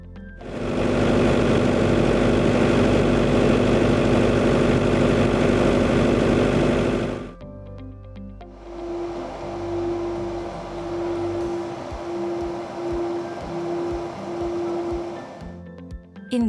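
A loud, broad engine drone runs close for several seconds, then cuts out. An FCTP 7000 fuel cell portable generator takes over with a much quieter, steady hum and a clear sustained tone, continuing evenly until the end.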